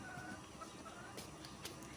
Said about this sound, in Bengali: এখানে দেখতেই পাচ্ছ একটা দেশি মোরগ